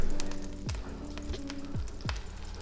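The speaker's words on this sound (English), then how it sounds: "We're going to fry these quite hard, just develop the colour." Onions fry hard in a very hot pan, with a loud continuous sizzle and crackle close by, broken by a few low thuds and scrapes of the pan being moved, no voices.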